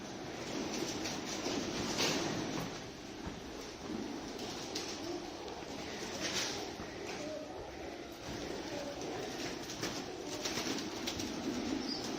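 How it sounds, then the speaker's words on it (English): Pigeons coo and flutter inside an abandoned, condemned multi-story downtown building, their soft calls continuous and fairly faint in a hollow space, with occasional rustling. "Fucking pigeon orgy up here."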